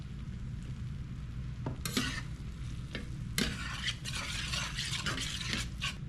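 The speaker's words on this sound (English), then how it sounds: "Now all that flour that was stuck to the skillet gets deglazed." A spoon scrapes and stirs a bacon cream sauce in a skillet as the stuck flour deglazes, giving close, irregular metallic scrapes over a steady low simmering hiss, with no voices.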